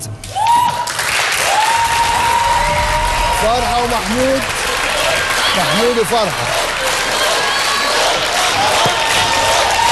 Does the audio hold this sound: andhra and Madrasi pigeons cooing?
no